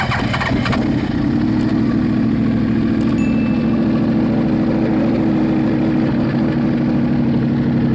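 A Yamaha R1 superbike fitted with a Toce titanium full-system exhaust cranks and fires, settling into a loud, rough, throbbing idle close by, with a few faint metallic ticks and no speech.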